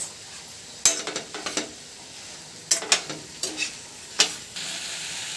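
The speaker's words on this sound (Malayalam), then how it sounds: "മഞ്ഞൾപ്പൊടിയും ചേർത്ത് നന്നായി ഇളക്കുക." Vegetables with turmeric powder are stirred in a frying pan: a low steady sizzle with clusters of quick spatula scrapes and clicks against the pan, coming in three separate bursts.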